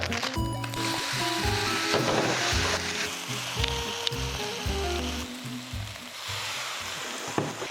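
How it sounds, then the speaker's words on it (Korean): Instant black bean noodles stir-fried with their sauce in a hot pan give a steady sizzle and frying hiss, with stirring scrapes, over background music throughout. "이제는 면 볶아야 돼"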